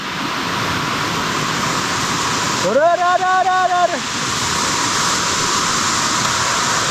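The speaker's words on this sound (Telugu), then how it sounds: "చిన్న వాగు" Small rocky stream and waterfall pouring steadily as a broad continuous rush, briefly overlaid by a louder tonal sweeping sound midway.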